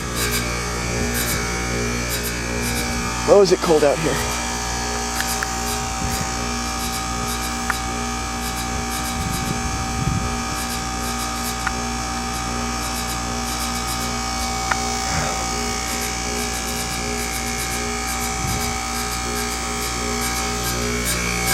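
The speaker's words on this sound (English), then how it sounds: "noise is the fan grill" Goodman heat pump outdoor unit defrosting in cold weather, a steady mechanical hum with a low rattle and scraping from the fan grill, plus occasional clicks and knocks; a person speaks briefly near the start.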